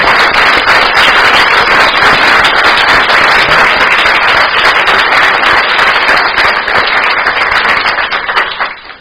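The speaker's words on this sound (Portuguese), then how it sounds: "Gostaria de pedir uma salva de palmas." A loud round of audience applause greeting a donation at a gathering, dense rapid clapping sustained throughout and then tapering off near the end.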